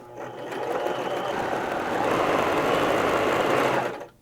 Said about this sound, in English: It puts 2 stitches forward and 1 stitch back.